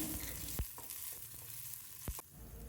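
Chopped onion and split green chilli frying in oil in a pan, a steady close sizzle with a few sharp clicks of stirring against the pan.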